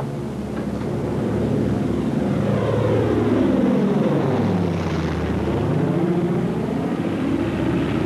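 A Douglas A-20 Havoc twin-engine bomber dives, its propeller engines roaring steadily while the pitch sweeps downward and then rises again, loud and continuous throughout.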